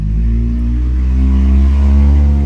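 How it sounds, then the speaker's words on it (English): A worn-out van's engine with a blown exhaust revving loudly nearby, a deep, rough, continuous roar that rises in pitch and holds strong throughout, no voices over it. "That's what a car sounds like when its back is almost blown out"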